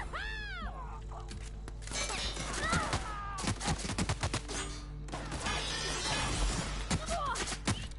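Rapid video game gunfire from The Outer Worlds as crates are shot, repeated sharp cracks in dense bursts over a layered game soundscape of whooshes and effects.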